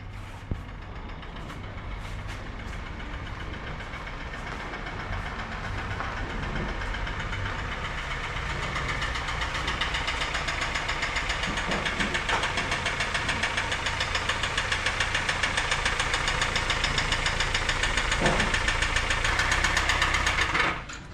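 A 2016 Kia Sorento 2.0 engine idles with a rough timing chain fault, a steady metallic rattling and ticking that runs continuously and grows slightly louder over the stretch, heard up close with no talking.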